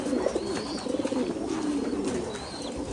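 Several egg-laying pigeons coo continuously in overlapping, rolling phrases, close and steady throughout, with a faint high chirp now and then.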